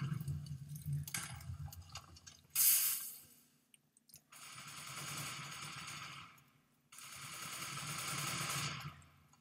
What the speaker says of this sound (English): That's a lot of gunfire.